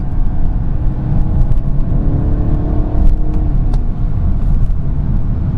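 A stock 2017 BMW 230i (F22 2 Series) cruising on an ordinary road, heard from inside as a loud, steady engine drone and tire rumble with road noise throughout.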